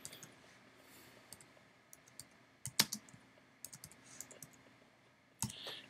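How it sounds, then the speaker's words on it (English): Someone types on a computer keyboard, a quiet, close run of irregular key clicks with a few sharper taps and pauses, entering text into a PDF. "I'm just going to start typing in the text that I want to add."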